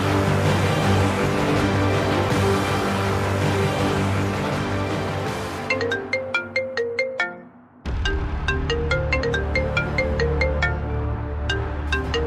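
A phone ringtone plays a loud, full musical melody, then cuts to a brief gap and returns as bright, repeating chime-like notes over sustained tones, with no one talking.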